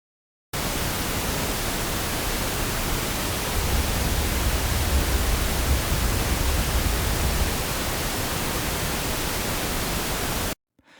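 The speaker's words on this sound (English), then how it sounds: "On audio systems with a wide frequency range, a very low hum is clearly heard." A pink noise test signal with a boost at 63 Hz plays as a steady, even hiss with a deep low hum underneath, running for about ten seconds with no speech.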